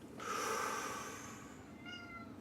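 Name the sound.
cat meowing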